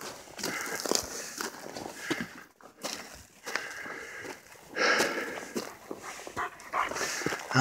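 A dog on a hiking trail gives scattered yips, whimpers and short barks between crunching footsteps, close by and uneven in loudness, with brief gaps of near quiet.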